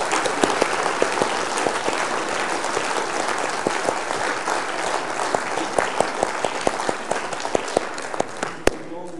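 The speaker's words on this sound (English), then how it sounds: "Let's give him a round of applause." A lecture audience applauds organiser Victor Debatis with steady, dense clapping that fills the whole stretch, a few sharper individual claps standing out near the end.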